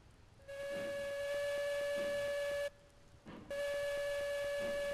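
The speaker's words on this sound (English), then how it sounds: "let me see, is the whistle?" A steam locomotive whistle in Railroads Online blows a long steady tone, cuts off briefly, then sounds again, clear and fairly loud with no talking.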